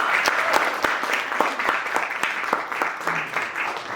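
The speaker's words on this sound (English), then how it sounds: "So let's have a round of applause for that" An audience at a literary festival applauds author Amish Tripathi with steady, close clapping over a few seconds, some individual claps standing out sharply.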